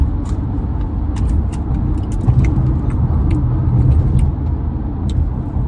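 A car drives along a road in New York State, its cabin filled with a steady, loud low engine and tire rumble, with small rattles and jingles ticking throughout.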